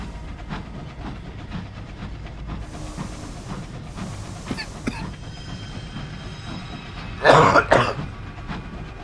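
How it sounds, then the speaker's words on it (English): A person coughs twice in quick succession near the end, fairly loud and close, after a stretch of quiet background rumble and a few faint clicks. "I should really try to mute if I have to cough."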